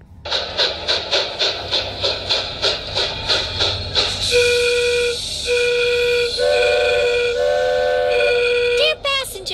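A cartoon train called the Blue Comet chugs in a rapid rhythmic puff, then sounds a loud multi-tone whistle in several long blasts, ending with a quick warbling toot.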